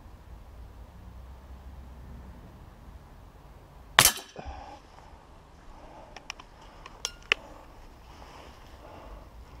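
A Beeman P17 air pistol fires once with a sharp, close crack, followed by a few faint mechanical clicks against quiet background noise.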